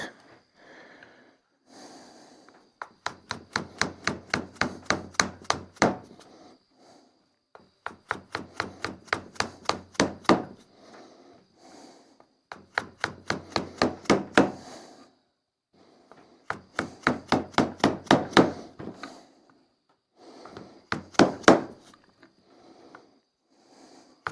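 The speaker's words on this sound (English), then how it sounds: "I am using a hammer for this because I'm taking off a little bit more." Four bursts of rapid hammer blows on wood while shaping parts for a spring pole lathe, each a quick run of sharp taps, separated by pauses with soft breathing and shuffling between them.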